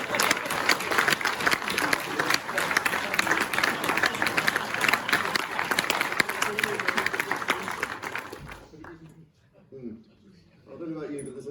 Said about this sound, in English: We have a round of applause for former panel members